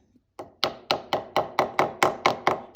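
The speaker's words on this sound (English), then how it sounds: "So we can start to tap that in and then literally tap it on the end" Wooden inlay being tapped into a live-edge slab table, about ten evenly spaced sharp wooden knocks in a steady rhythm, close and fairly loud, with no talking.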